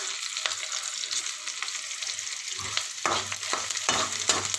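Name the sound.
onions frying with ginger garlic paste and rock salt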